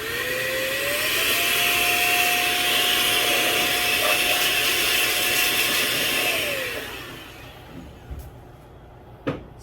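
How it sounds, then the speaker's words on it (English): An automatic air blower used to clean camera gear runs with a loud, steady whirring whine that rises in pitch, holds for several seconds, then winds down and cuts off, leaving faint handling clicks. "I like to use an actual automatic blower."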